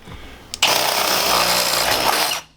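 A power drill whirs up abruptly and grinds steadily through the metal of a Sprinter 170 van for a rivet hole during ceiling strut installation, about two seconds, then winds down; loud and close.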